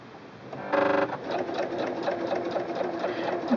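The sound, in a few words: Singer Quantum Stylist 9960 sewing machine sewing a straight stitch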